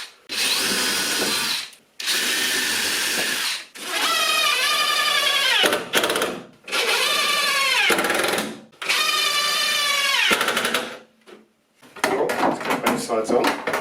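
Power drill drives screws into a homemade TV wall bracket in several long, loud whirring bursts, the pitch rising and dropping as each screw seats, with brief pauses between and a rattle of handling at the end.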